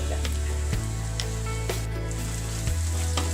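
Finger chips and egg frying together in a pan as they are stirred, a close crackling sizzle with clattering scrapes of the spatula and a low steady hum underneath, no voices.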